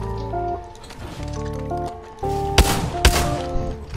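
Two sharp, loud rifle reports from the 30-30 Repeater in Apex Legends, spaced about half a second apart, rising over a busy game mix of music and effects.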